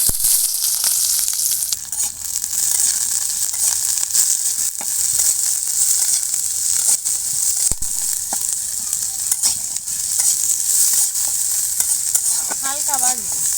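Onion, garlic and chillies fry lightly in mustard oil, a loud continuous hiss with scattered clicks and scrapes of stirring close by.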